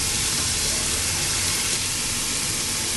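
Ginger and garlic hit browning onions in a pan, giving a steady, loud broadband sizzle and hiss that holds evenly throughout with no talk over it.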